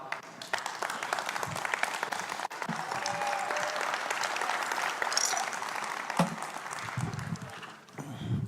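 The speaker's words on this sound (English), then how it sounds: "So once again, applause for Vladi." A steady wash of audience applause fills a presentation hall for a speaker on a cryptocurrency project, dense and fairly distant, holding evenly before tapering off near the end.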